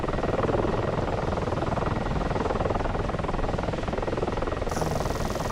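Simulated helicopter engine from DCS running steadily after starter engagement, a constant dense mechanical whine and rumble with no break, close and uniform.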